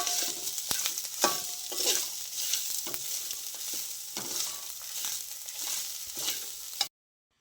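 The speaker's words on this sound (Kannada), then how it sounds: "ನಾನೀಗ ತೆಂಗಿನ ತುರಿ ಹಾಕ್ತೇನೆ ಇದಕ್ಕೆ. ಮತ್ತು ಸ್ವಲ್ಪ ಫ್ರೈ ಮಾಡಿ ಆಫ್ ಮಾಡಿದರೆ ಸರಿ" Grated coconut frying in a pan, a close crackling sizzle broken by repeated scraping stirs in an uneven rhythm, then a sudden cut to silence near the end.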